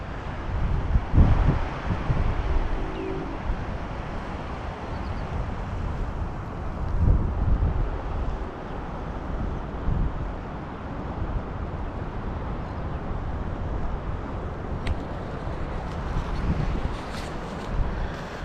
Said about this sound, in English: Still really windy over this direction here